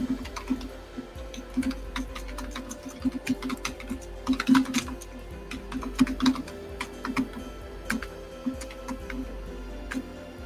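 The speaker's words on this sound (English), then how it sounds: "Hang on, I'm typing my email." Rapid, irregular clicking of a computer keyboard as someone types an email, a close, steady patter of keystrokes with no talking.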